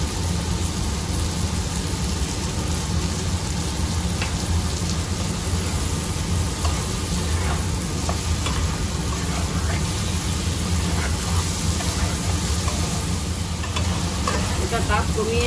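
Potatoes fry in a pan with salt, giving a dense, continuous sizzle with crackling spatter and occasional stirring scrapes, steady and close throughout.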